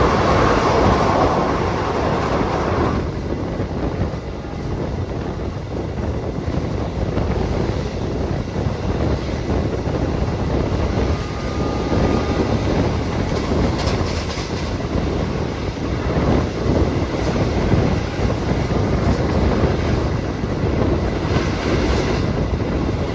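A train passes straight through Grati station in Indonesia without stopping, a continuous rumble and rattle of rail cars heard close by under strong wind buffeting the microphone.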